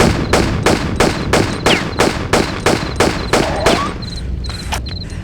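Gunfire in a Tomb Raider custom level set in Rome, aimed at a dog: about a dozen loud, evenly spaced shots in a steady rhythm, then a short pause and a few higher metallic pings.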